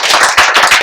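A lone man claps for himself at a brewery investor event, a short burst of about five or six close, sharp handclaps in quick uneven rhythm.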